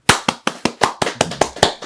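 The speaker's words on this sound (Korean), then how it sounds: "힘찬 박수로 모셔보도록 하겠습니다" Brief applause from a small group: about ten sharp, evenly spaced claps ring out close by, with no talking.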